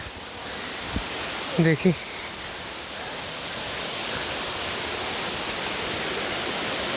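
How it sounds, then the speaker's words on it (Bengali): Katiki Waterfalls pours in a steady, broad hiss of falling and splashing water, close and unbroken throughout, with a few brief words spoken over it near the start. "জলের ছিট আসছে, আর এইখান দিয়ে জল পড়ছে, এখান দিয়ে নিচে চলে যাচ্ছে।"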